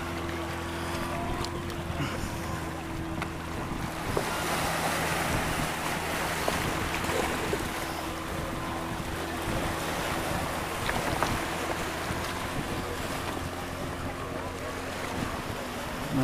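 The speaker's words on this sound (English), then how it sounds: "There's another boat coming with the Coast Guard behind it." A boat's engine drones steadily over wind buffeting the microphone and the wash of sea waves off Lesvos, with a faint voice in the background.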